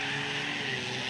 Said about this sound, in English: the blue and yellow estate car making its way up here now